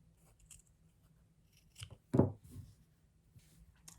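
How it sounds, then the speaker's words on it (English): Scissors trim the corners and seam allowance of a small fabric Christmas angel ornament: a few quiet snips, the clearest in the middle, close and without talk. "Now I'm going to trim the corners and just trim a little bit of the seam allowance"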